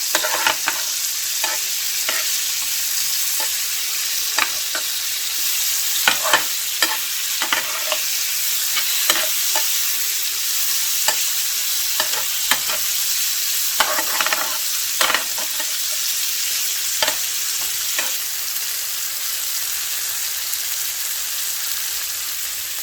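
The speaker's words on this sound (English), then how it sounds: "Just stir fried in this juices of the pork chops." Sliced pork chops stir-fried in their own juices, a dense steady sizzle with frequent clicking spatula strokes against the pan throughout, close and loud, no speech.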